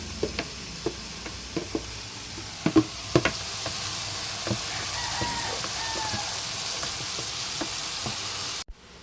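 Bitter melon (ampalaya) sautéing in a pan, a steady close sizzle broken by scattered sharp pops and the scrape of stirring, with a rooster crowing faintly in the background.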